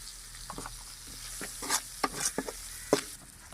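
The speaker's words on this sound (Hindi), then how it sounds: "मसाला व्यूअर्स हमने भून लिया" Masala for aloo gobi fries in a pan with a steady background sizzle, broken by a series of scraping stirs and a few sharper clinks of the spoon, fairly close.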